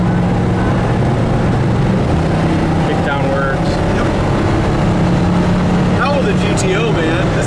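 1967 Pontiac Grand Prix convertible cruising on an open road at speed, a loud, constant engine drone mixed with road and wind rush, with people talking over it.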